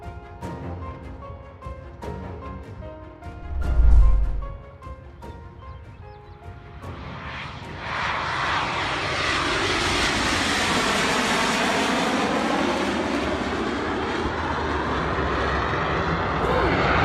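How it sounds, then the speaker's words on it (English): A P-38 Lightning World War II fighter plane at Duxford, UK: a broad, steady engine roar builds in and stays loud to the end, after a brief low thump and a few sharp clicks at the start. "This is crash footage of the famous World War II airfighter P-38 Lightning in Duxford"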